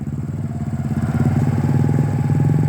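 A motorcycle engine putters steadily at low throttle while the bike is walked along, with a rhythmic, close, moderately loud idle-like chug and no talking.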